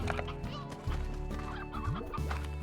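Chickens clucking among the ranch animals of the game Slime Rancher, soft repeated clucks mixed into dense game music and ambient effects, fairly faint and never alone.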